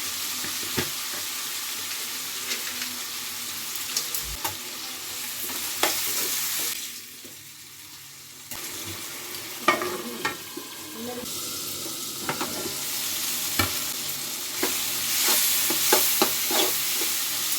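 Tomatoes and chili powder fry in a pan for tomato rice, giving a soft, crackling sizzle broken by scraping stirs and a brief pause midway, heard close up without talk.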